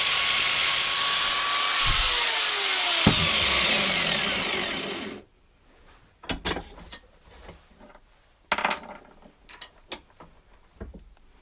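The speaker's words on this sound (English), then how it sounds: "take the very thin slitting disc and just put a notch in the top of that" An angle grinder with a very thin slitting disc cuts a notch in metal: a loud, steady high-pitched whine for about five seconds, then quieter sharp clicks and rattles as it is set down and handled.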